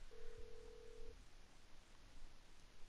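A phone call to the mechanic in GTA 5 Online: a single long electronic ring tone sounds, faint and isolated against quiet background noise.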